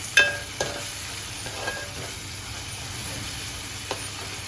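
Ginger garlic paste frying in oil with onion and tomato, stirred in a pan with a spoon: a soft steady sizzle under a few sharp scraping clinks of the utensil, close and fairly quiet.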